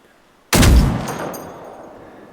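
A single loud gunshot from a weapon in Generation Zero cracks sharply out of near silence, then rings and decays slowly over the next two seconds, with no voices.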